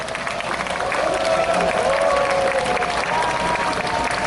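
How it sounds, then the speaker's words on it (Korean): Audience applause at a Korean prayer rally and national assembly, broad steady clapping from a crowd with some murmuring and a tonal hum running underneath throughout. "큰 박수로."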